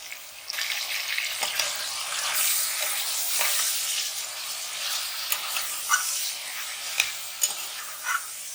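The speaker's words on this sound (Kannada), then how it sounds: "ಚೆನ್ನಾಗಿ ತಿರುಗಿಸ್ಕೊಳ್ಬೇಕು ಈ ಥರ" About three quarters of a kilo of chicken frying in hot oil and being stirred, a steady bright sizzle with occasional scraping clatters of the spoon against the pan, with no voices.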